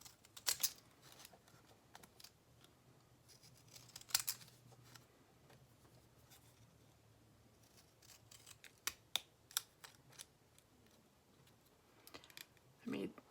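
Small scissors snip paper in sparse, irregular bursts of crisp cuts during a craft session in an altered dollar-store book, with quiet gaps between snips.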